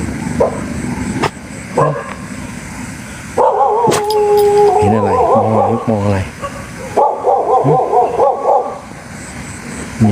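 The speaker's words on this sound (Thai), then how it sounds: "เห่าอะไรลูก" A dog barks, yips and howls in several close, loud bursts, with whining notes between them, during an evening run before bed; a person talks in between the bursts.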